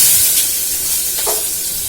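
Chopped onion hits hot oil with ajwain and hing, giving a loud, close, steady sizzle and hiss of frying.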